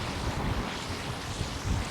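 Steady roaring wind on Orcas Island by salt water buffets the microphone, with a broad rushing noise and low rumbling gusts throughout, no voices.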